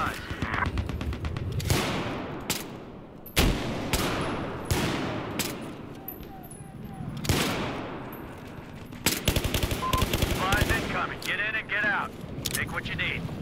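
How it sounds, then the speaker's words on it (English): Enemy gunfire in Battlefield 4: repeated loud bursts of automatic fire and sharp shots in irregular clusters, with someone talking under and between them. "I'm taking a lot of enemy fire."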